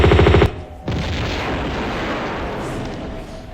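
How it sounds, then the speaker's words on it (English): Heavy gunfire from the Doom Raider mod of the video game Doom: a rapid burst of loud shots is followed by a brief gap, then a sustained roaring blast that slowly fades. "Keep shooting, Laura, please."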